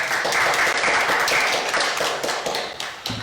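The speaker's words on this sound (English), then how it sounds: "How do you get an applause like that?" Applause in a city council chamber, a steady round of clapping from a crowd lasting a few seconds before tapering off at the end.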